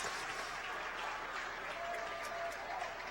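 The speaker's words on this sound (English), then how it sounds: "You can hear the round of applause from the Barnesville Trojan faithful" Steady applause from a high school football crowd of Barnesville Trojan fans after a short, incomplete pass in a section final, a dense, even wash of clapping heard from a distance at moderate level.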